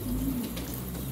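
Pigeons cooing close by, a soft low coo rising over a steady background hum, brief and alone.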